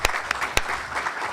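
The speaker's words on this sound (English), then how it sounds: "How about a nice round of applause for our guest?" An audience claps for guests at a NATO officers' event, a short burst of steady applause with a few sharper individual claps standing out near the start.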